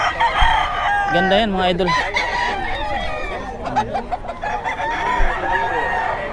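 Roosters crow loudly and repeatedly among clucking fowl at a busy pet market in Bocaue, with someone talking briefly over the birds.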